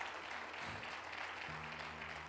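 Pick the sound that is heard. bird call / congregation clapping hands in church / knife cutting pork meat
congregation clapping hands in church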